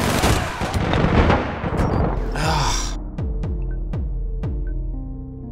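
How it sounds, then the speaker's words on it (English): Burst gunfire from an OCA weapon in the online shooter APB Reloaded, with several sharp shots spaced roughly evenly toward the end, following a busier stretch of in-game noise. "Why is he burst firing with his"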